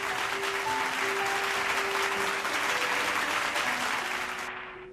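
A crowd applauds in a TV drama scene, a dense, even patter of clapping lasting several seconds before cutting off abruptly.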